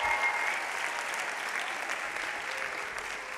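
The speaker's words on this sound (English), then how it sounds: "Give yourself a round of applause." Audience applause at a McCourt School of Public Policy commencement for the class of 2023, a dense, steady wash of many hands clapping at an even level throughout, with no talk over it.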